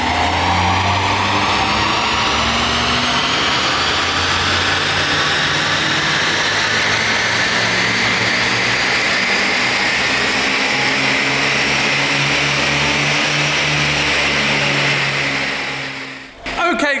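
A stage 1 mapped BMW 220i runs hard on a dyno, its engine holding a loud, steady sustained roar that climbs slowly in pitch for about fifteen seconds before cutting off abruptly at the end.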